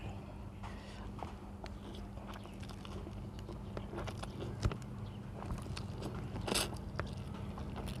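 Spicy Korean instant noodles being eaten close to the microphone, with soft slurps and bites under a low background hum and one sharper crunch partway through.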